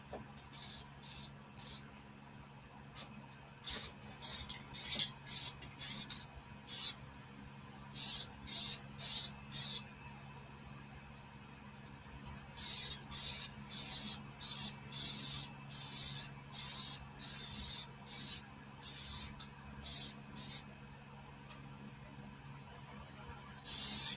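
Aerosol spray paint hisses onto a barbecue smoker in bursts of a second or two, some separated by short gaps, others running in quick repeated strings, close and fairly loud with no talking.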